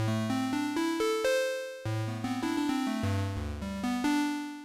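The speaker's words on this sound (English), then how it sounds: "It starts with a sawtooth," A synthesizer built from sawtooth and square wave oscillators plays a quick run of bright, buzzy stepped notes, alone and fairly quiet.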